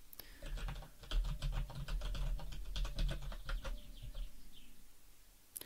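Rapid, uneven key presses on a computer keyboard while entering text for a Microwatt Libre-SOC chip simulation, close and steady with brief pauses, no voices.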